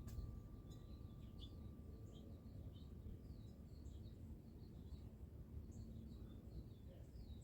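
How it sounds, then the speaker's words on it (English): Birds chirp faintly and intermittently outdoors on a very quiet, calm day, their small high tweets scattered over a low, steady background hush with no voices. "You could probably hear the charms in the background along with the birds tweeting."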